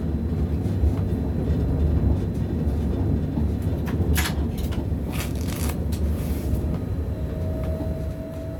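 An ÖBB 1016 electric locomotive rolls slowly through a tunnel, giving a steady rumbling drone with rhythmic clacks and rattles from the rails and occasional squeals.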